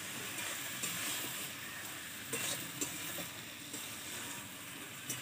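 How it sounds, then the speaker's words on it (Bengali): Chopped banana flower with turmeric and salt is stirred in a hot pan, giving a steady crackling sizzle with soft scraping strokes that recur every second or so. "এবার নাড়িয়ে নেব"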